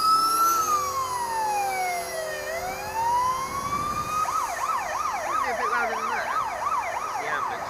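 A loud, close ambulance siren wails in a slow rise and fall, then switches to a rapid yelping pattern over traffic rumble.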